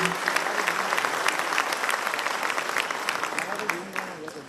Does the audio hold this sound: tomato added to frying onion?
no